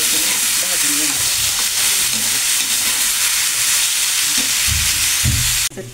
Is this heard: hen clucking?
no